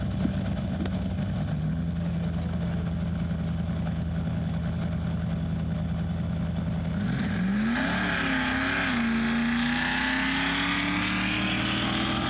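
A drag-racing truck at Newtown Dragway during a truck bracket race idles loudly and steadily, then its engine revs and climbs in pitch toward launch, rough and close throughout.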